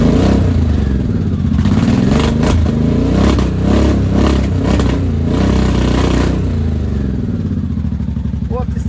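A 1983 Honda motorcycle engine running cold with some choke still on after final assembly, loud and close, with a rough, uneven idle and a few blips of revving, while someone talks over it.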